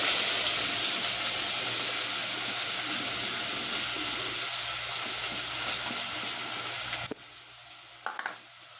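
Finely chopped onions frying in hot oil with cumin and asafoetida for a banana flower bhaji, a loud, steady close sizzle with stirring scrapes that drops away sharply near the end, followed by a couple of clanks.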